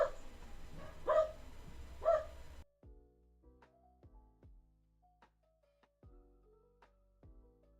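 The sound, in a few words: neighbor's dog barking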